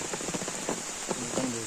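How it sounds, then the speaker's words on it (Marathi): Heavy rain pours down in a village, a dense close hiss with scattered drips and splashes on nearby surfaces, while faint voices sound under it. "पाऊस बघा किती पडतंय"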